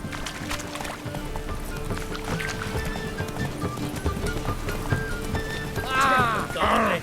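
Horse hooves clip-clop steadily at a run while riding in The Witcher 3, with a whinny rising near the end over a busy game soundscape.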